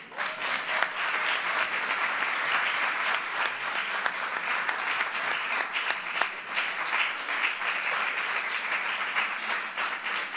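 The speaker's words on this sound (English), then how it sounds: "They deserve a round of applause." Sustained applause from a large crowd at a Senate celebration of judicial confirmations, dense steady clapping that continues without pause throughout.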